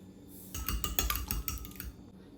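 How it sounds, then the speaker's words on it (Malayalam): Eggs whisked with a pinch of pepper and salt in a glass bowl, heard as a brisk run of clinking utensil strikes against glass for about a second and a half, close and fairly loud with no talk. "3 മുട്ട എടുത്ത് വെച്ചിട്ടുണ്ട്. ഇതിലോട്ട് ഒരു നുള്ള് കുരുമുളകും ഒരു നുള്ള് ഉപ്പും കൂടി ചേർത്ത് നന്നായിട്ട് ബീറ്റ് ചെയ്ത് വെക്കണം"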